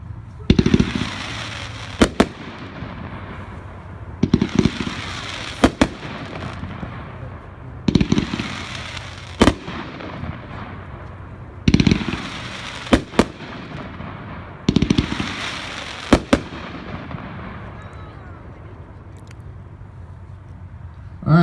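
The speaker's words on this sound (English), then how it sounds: "42, Triple Threat." Triple Threat consumer firework cake from an American Fireworks demo, firing in repeated bursts: sharp loud cracks and booms roughly every few seconds, each followed by crackling that fades, outdoors and close.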